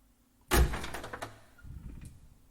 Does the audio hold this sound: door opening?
yes